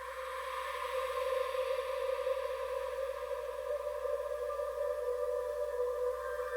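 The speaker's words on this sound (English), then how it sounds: "That was the Angels in the Desert preset from the Texture Soundscape folder." An ambient texture pad, the Angels in the Desert preset from a Texture Soundscape folder with its lows trimmed by EQ, holds steady sustained tones with a soft airy shimmer for several seconds, even and unbroken with no voices.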